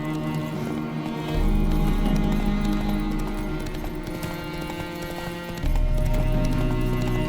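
A horse gallops through a Witcher 3 game scene, its steady hooves drumming under a continuous music bed that swells louder partway through.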